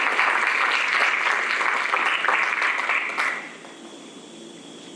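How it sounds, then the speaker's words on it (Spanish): Audience applause welcoming a speaker at a mathematics talk, steady dense clapping for about three seconds that stops abruptly and leaves quiet room tone. "recibamos con un aplauso a la doctora Patricia Pellicer"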